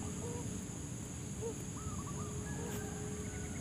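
Spotted dove, or terkukur, cooing outdoors with soft, repeated low hooting calls, faint against steady background noise and a high constant hiss, with no talking.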